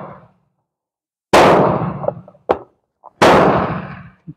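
An M44 Romanian Mosin Nagant rifle fires two loud, sharp shots a couple of seconds apart, each followed by a decaying boom, with a brief, smaller crack between them.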